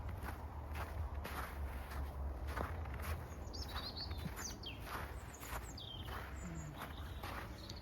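Birds chirping in a snowy park on the first snow of the year, scattered faint calls over steady outdoor noise and crunching footsteps of someone walking.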